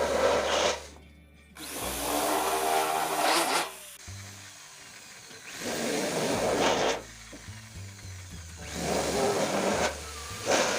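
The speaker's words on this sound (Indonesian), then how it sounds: "Kita bor dulu guys." Power drill boring holes through a mosquito coil holder in three separate bursts of loud whirring and grinding, with short pauses between them and no talking.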